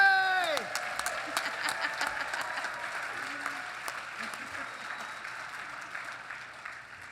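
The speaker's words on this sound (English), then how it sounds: "It's okay, clap!" An audience applauds in a hall at a Voice of Democracy winners' parade, clapping fairly loud at first, then settling into steady, gradually fading applause, with cheers and voices mixed in.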